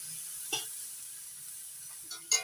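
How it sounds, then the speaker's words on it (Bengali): Malabar spinach and katla fish eggs frying in a pan, a faint steady sizzle with a couple of brief stirring scrapes, one near the start and a louder pair near the end. "শাক আর ডিম একসঙ্গে আবার একটু ভাজা ভাজা করে নেবো"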